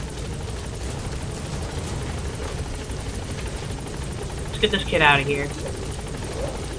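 Metal Gear Solid V's Pequod support helicopter hovers at a landing zone, a steady loud rotor drone throughout while a voice speaks briefly over it.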